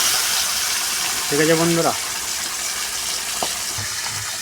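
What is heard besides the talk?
fish frying in hot oil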